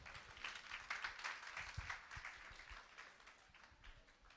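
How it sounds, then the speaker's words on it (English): An audience at a school annual day for grade 2 students gives a soft, fairly distant round of applause, with scattered claps rising and fading over a few seconds. "it's like a big round of applause for all of them"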